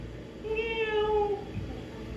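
A cat gives a single drawn-out meow, clear and fairly close, rising then fading over about a second, with low steady room noise before and after.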